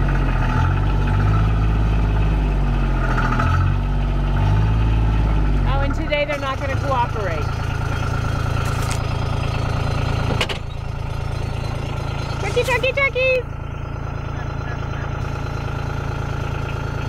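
A small Gator utility vehicle engine idles and revs, rising and falling as it gets moving, with a voice briefly heard over it.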